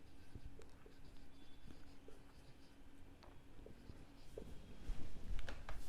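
Marker or chalk scratches and taps on a board while coordinates are written out, producing faint, irregular strokes and ticks over a quiet room background.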